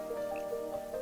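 A paintbrush swished in a jar of clean water during watercolour painting gives soft, close liquid drips and a faint squish over about a second, with no talking.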